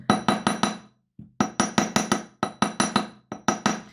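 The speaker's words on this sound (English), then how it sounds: "So I'm going to hammer it now, hammering in the back of it." A hammer strikes the back of an embossed copper pendant in a jewelry workshop. Sharp, ringing metallic taps fall in quick bursts of three to five blows, separated by short pauses, close and clear with no talking.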